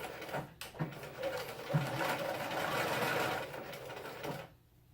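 A sewing machine stitches a pencil case's lining to its outer fabric, running in a steady close whir for about four seconds before stopping abruptly.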